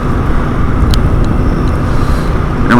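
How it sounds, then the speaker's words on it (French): A motorcycle rides along an Alpine road on the Route des Grandes Alpes, its engine and wind rumbling loudly and constantly throughout, with no voices. "La moto a bien démarré."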